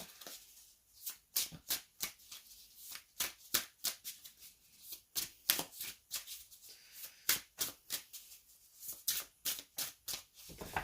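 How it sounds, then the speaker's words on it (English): An oracle card deck is shuffled by hand, producing rapid repeated riffling snaps in an uneven rhythm, close and fairly quiet, with no talk. "I'll just shuffle and then we'll cut the deck."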